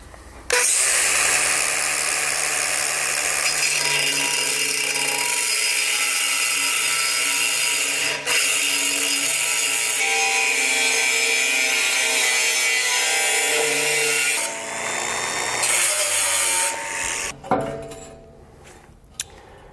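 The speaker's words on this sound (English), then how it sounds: "We're obviously going to be cutting metal, so we need eye protection, we need protection from our hands." A cutoff wheel grinds through metal during a base plate install on a 2020 Jeep, a loud continuous high-pitched whine lasting many seconds, then tapering off with a few clatters near the end.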